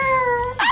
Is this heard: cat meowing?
yes